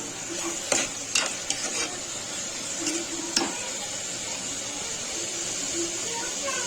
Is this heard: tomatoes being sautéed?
yes